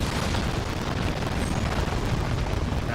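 Grenade launcher blasts in the video game Death Stranding 2 produce a heavy, continuous rumbling roar of explosions that stays loud and dense throughout.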